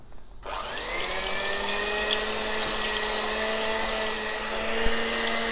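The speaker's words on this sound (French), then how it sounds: "Donc on va insérer les 4 œufs. Et on commence à mélanger." Four eggs being whisked by an electric mixer, a steady high whine that starts abruptly and holds constant for several seconds with a faint rattling edge, close and alone.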